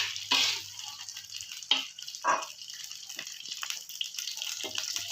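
Water poured into a pan of frying corn and pumpkin leaves, giving brief gushes and sputtering sizzles with scraping clatter in between, close and moderately loud.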